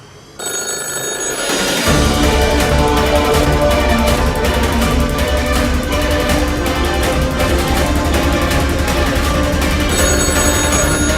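A telephone bell rings loudly and continuously, a sustained electronic trill that starts after a brief quiet moment and persists throughout.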